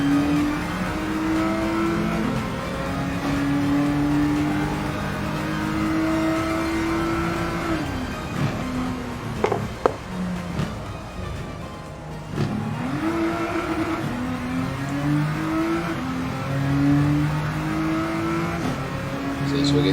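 A race car in a video game runs a flying lap around Spa in wet conditions, its engine note climbing and dropping through gear changes over the whole stretch, loud and continuous, with a voice talking over it.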